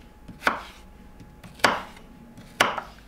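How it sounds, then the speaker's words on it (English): A knife slices a potato lengthways into French-fry strips: three sharp, close chops on a board, evenly spaced about a second apart, with quiet gaps between. "And then continue to cut lengthways."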